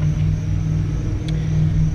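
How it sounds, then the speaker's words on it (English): A loud truck drives past outside during an indoor session of clipping a dog's nails, a heavy, steady low rumble filling the whole moment without any talk. "Loud truck that went by."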